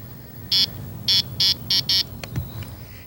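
An electronic bite alarm on a carp fishing rod holder gives five loud, close, high-pitched beeps in an uneven run, followed by a few faint clicks over quiet outdoor background.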